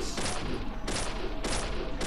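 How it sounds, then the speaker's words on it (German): Gunfire in the horror video game Deadly Premonition: a rapid burst of loud shots, the volleys repeating in quick bursts with no talking. "Wie oft muss ich eigentlich auf dich drauf schießen, dass du mir gehorchst?"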